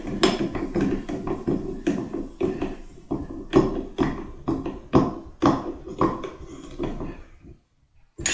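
A Phillips screwdriver turns a screw into a tub and shower faucet handle, giving a rapid run of close metallic clicks and ratcheting taps that stop near the end.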